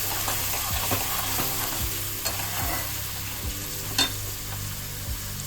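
Ginger, garlic and tomato paste fries in a pan for restaurant-style chicken bharta, a steady close sizzle punctuated by rhythmic spoon scrapes and occasional knocks against the pan, with no talking.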